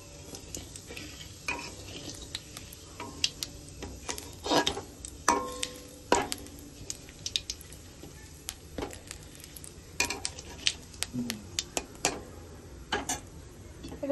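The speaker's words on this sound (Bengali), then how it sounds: "হালকা করে নেড়ে নেবো" Whole white cumin seeds stirred in hot oil in a pan for a Bengali moong dal with fish head, giving a steady crackling sizzle broken by frequent sharp ticks and scrapes of a utensil against the pan, close by with no talking.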